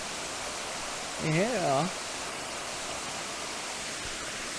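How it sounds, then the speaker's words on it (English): Junction Falls in the Blue Mountains, New South Wales, pours with a steady, even roar that fills the whole scene, and a voice speaks briefly once partway through. "I want to include both sides of the waterfall"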